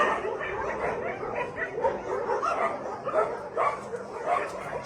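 Several dogs in a crowded animal shelter bark and yip over one another in a continuous, fairly dense chorus, with occasional whimpers mixed in and a faint human chuckle in the background.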